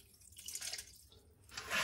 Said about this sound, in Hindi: अब यहाँ पे तो मैं पानी डाल दूंगी थोड़ा सा